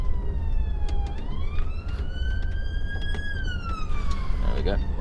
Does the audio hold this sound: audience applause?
no